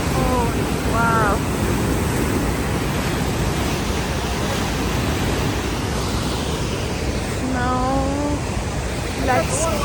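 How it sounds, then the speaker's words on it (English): Water rushing through Johnston Canyon in Canada: a steady loud broadband roar filling the whole stretch, with brief voices speaking over it. "see the water. It is flowing"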